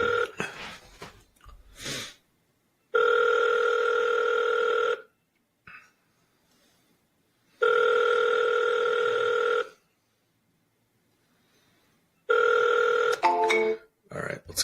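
A phone ringtone sounds during an outgoing call, with three sustained, loud, even rings separated by gaps of silence and a few brief handling noises around them.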